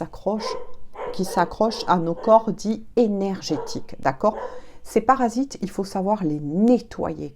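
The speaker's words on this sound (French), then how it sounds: "je m'excuse, c'est mon chien aboie," A dog barks indoors in a house, sharp repeated yaps and woofs overlapping with someone speaking continuously close to the microphone.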